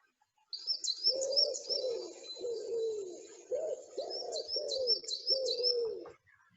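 A recorded bird call of repeated soft cooing notes with high twittering phrases above, in two bursts over several seconds, clear and alone.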